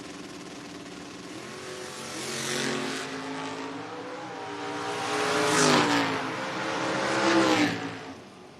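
Chevrolet Vega drag cars, including a Vega wagon, launch down the strip at a Door Wars bracket race. Loud engine roars swell and rev in three surges before fading, heard from trackside without talk.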